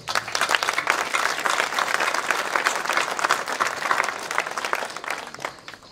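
A crowd applauds at the opening of a Jean-Michel Folon art exhibition at a villa; sustained, dense clapping rings out for several seconds before tapering off.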